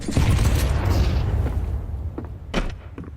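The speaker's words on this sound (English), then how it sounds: "I throw the flashbang" A flashbang grenade goes off in a video game with a heavy, booming low rumble that is loud at first and then slowly fades, leaving a few faint knocks behind.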